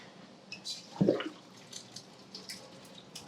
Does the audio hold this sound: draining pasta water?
yes